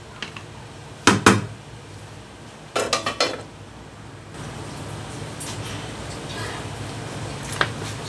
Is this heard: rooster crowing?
no